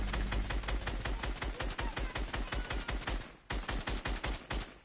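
Rapid, evenly spaced gunshots in Fortnite, loud and close, with a short break before the firing resumes in quick bursts.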